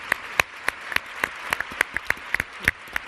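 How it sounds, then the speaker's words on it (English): Sparse, scattered clapping from a small panel-discussion audience, a handful of distinct sharp claps spaced irregularly over a few seconds, fairly close and thin rather than a full ovation. "big round of applause to all our panelists"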